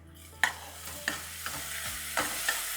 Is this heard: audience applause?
no